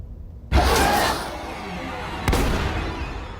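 A sudden sharp gunshot from a horror film bursts out loudly, followed by a lingering rumbling echo, then a second crack with more reverberant decay.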